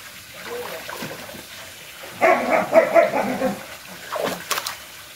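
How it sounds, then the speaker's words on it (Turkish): Dogs bark in a few short bursts at a middle distance near a swimming pool, with water splashing and occasional voices around them. "Köpekler havlamaya başladı bu saat."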